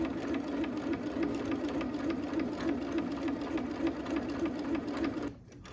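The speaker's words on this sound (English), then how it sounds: "So I choose just a straight stitch, just a basic stitch, and I try to go forward." A sewing machine runs a basic straight stitch through cotton, its fast, even mechanical hum and rapid needle ticking continuing steadily and close up for several seconds before stopping abruptly.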